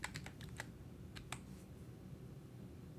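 Quiet, close keyboard typing on a computer, with a quick run of key clicks followed by a couple of isolated taps over a low background hum.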